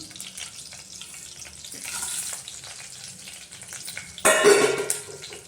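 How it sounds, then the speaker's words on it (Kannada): Mustard seeds, split chickpeas, black gram lentils, cumin, fenugreek, curry leaves and garlic sizzling in hot tempering oil, a soft crackle that swells into a loud hissing sizzle as more goes into the pan. "ಒಗ್ಗರಣೆ ಸಾಮಾನು ಹಾಕ್ತೀನಿ ಸಾಸಿವೆ ಕಡಲೆಬೇಳೆ ಉದ್ದಿನಬೇಳೆ ಜೀರಿಗೆ ಮೆಂತ್ಯ ಸ್ವಲ್ಪ ಕರಿಬೇವು ಬೆಳ್ಳುಳ್ಳಿ ಹಾಕ್ತೀನಿ"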